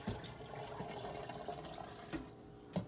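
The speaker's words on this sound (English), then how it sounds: "I strain this shit again. Cold water this time." Cold water runs steadily while frozen raw shrimp are strained, a faint continuous rush with a few soft knocks and clinks of the strainer toward the end, and no talk.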